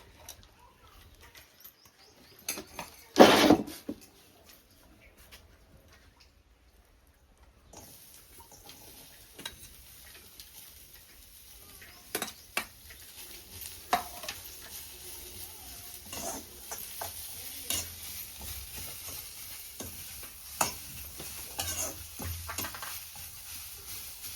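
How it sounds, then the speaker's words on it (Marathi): Onion roasting in a kadhai over a wood-fired chulha, cooked for a Malvani chicken curry: soft sizzling with scattered scraping clicks from stirring, and one louder knock early on, with no talk. "आता कांदो भाजत इलो"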